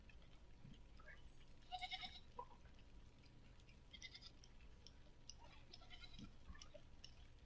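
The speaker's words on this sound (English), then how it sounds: "Who had all of these goats? Where are they escaping from?" Escaping goats bleating, a couple of faint, short bleats heard at a distance over a low, quiet background.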